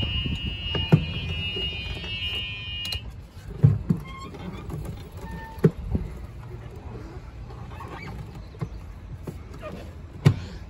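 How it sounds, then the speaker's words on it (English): A steady, high electronic backup buzzer on a Club Car Precedent golf cart in reverse drones for about three seconds and then stops, followed by scattered clunks and soft mechanical knocks as the brake locks. "Got your backup buzzer."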